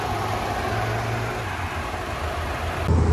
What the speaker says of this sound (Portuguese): Vou mostrar ali só o motorzinho dele. 3 cilindros.